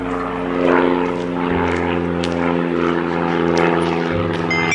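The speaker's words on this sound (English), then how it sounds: "A propeller plane flies up in the sky." A propeller plane flies overhead with a loud, steady droning engine and whirring airscrew, holding a constant close roar throughout.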